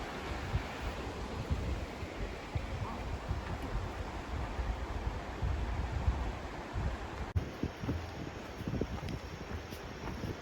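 A creek runs high after recent rains on a trail at Seneca Rocks, West Virginia, a steady full rushing wash with wind noise on the microphone.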